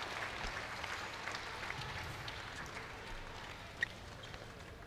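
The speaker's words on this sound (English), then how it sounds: "The crowd is appreciating the effort." A crowd at the semifinals of the 2015 BWF World Senior Badminton Championships claps steadily after a rally, a faint, distant, even patter of applause with no talking.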